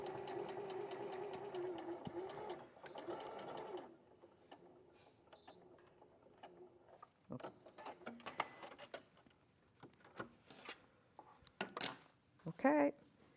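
A domestic sewing machine stitching fabric for a simple wrap jacket, giving a steady close whir for a few seconds, then quieter intermittent handling noises and clicks.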